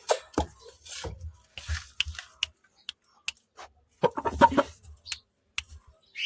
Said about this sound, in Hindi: यहाँ मेरा क्रीज पे जो लगा हुआ है वो मुर्गा है